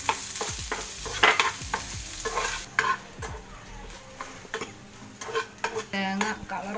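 Grated coconut, crushed chilli, ginger and curry leaves are stir-fried in a pan, with repeated scraping stirs of a spoon against the metal over a soft continuous sizzle, heard up close with occasional clinks.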